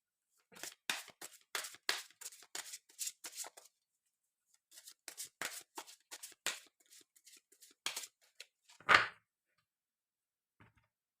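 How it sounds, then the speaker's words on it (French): Oracle cards handled and drawn from a deck, a run of crisp papery flicks and slides in two bursts with a louder snap near the end, close up and otherwise quiet. "On va prendre 3 cartes de l'oracle des rebelles sacrés pour voir un petit peu ce qui se passe au niveau de vos énergies"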